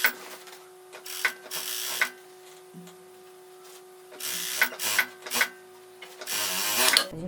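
An overlock machine sews the lining of a jeans pocket in several close whirring bursts of stitching, separated by brief pauses where a low steady motor hum continues.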